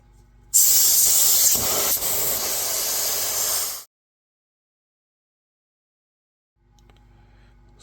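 Compressed air hisses loudly from the leaking valve of an Umarex Zelos airgun, a strong close rush lasting about three seconds before cutting off abruptly, followed by silence and faint handling noise.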